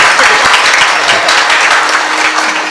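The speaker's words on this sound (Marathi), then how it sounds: "एकदा आमच्या महाराजांसाठी जोरदार टाळी वाजव" Loud, dense applause from a kirtan audience for the maharaj, a continuous wash of clapping close by for a few seconds.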